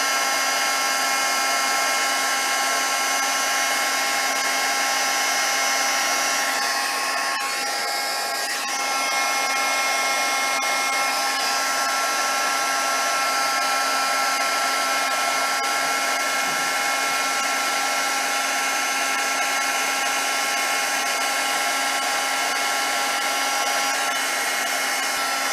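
A heat embossing tool blows hot air onto a card for a pillow gift box, a loud, steady, even whoosh with a constant hum that holds for the whole stretch, with no talk.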